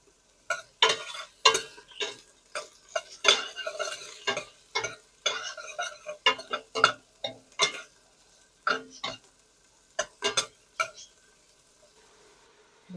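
Onions being sautéed in a pan for chicken curry with coconut, with a series of close scraping, clinking stirring strokes in an irregular rhythm over a faint sizzle, no talking.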